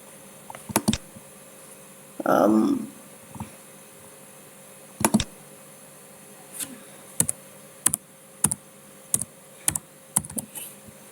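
Typing on a computer keyboard, scattered sharp key clicks coming singly and in short bursts with pauses between, close and clear over a quiet room hum, plus one brief muffled sound partway through.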